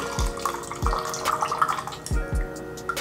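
Coconut water drips from an opened coconut in a few distinct close drops with small splashes, irregularly spaced, over quiet background noise.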